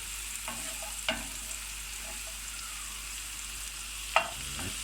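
Onions fry in butter in a pan for a Turkish buttered shrimp casserole, a steady soft sizzle with a couple of sharp scraping clicks from a utensil, no voices.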